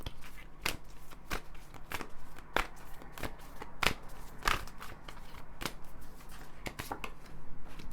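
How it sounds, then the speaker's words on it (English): A deck of oracle cards being shuffled by hand, a steady series of crisp riffling slaps close up, each burst short and sharp with brief pauses between, no talking. "I'm just going to shuffle these oracle cards"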